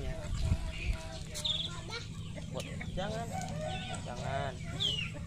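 Roosters crow and chickens cluck close by in a busy yard, several calls overlapping, with a person talking faintly underneath.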